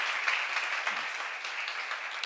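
A church congregation applauds at a Korean worship seminar, a steady, dense wash of clapping that holds evenly throughout without pause.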